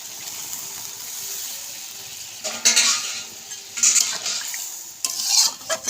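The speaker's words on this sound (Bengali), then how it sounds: "আমি এর মধ্যে দিয়ে দেবো একটু জল।" Water poured into a pan of vegetarian ridge gourd curry, with sizzling and stirring that surge in three bursts over a steady frying hiss, close and alone.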